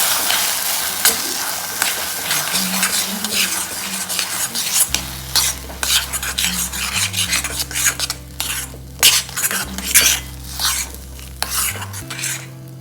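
Amla paste being stirred into a thick date mixture with a utensil scraping and clinking against the pan, a steady run of close stirring and soft scraping strokes with a faint sizzle beneath.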